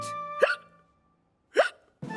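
A cartoon character hiccups twice, each one a sharp vocal gulp, spaced about a second apart, followed by the start of a third sound.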